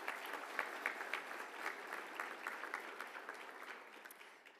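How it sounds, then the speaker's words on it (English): An awards event audience gives a round of applause, steady dense clapping from a crowd heard at moderate distance, fading slightly toward the end. "Let's all give them a big round of applause."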